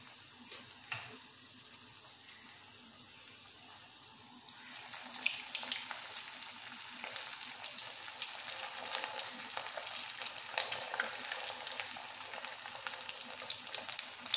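Cheese balls deep frying in hot oil, a soft bubbling that swells into a denser, louder crackling sizzle partway through as another ball goes in, close by and continuous.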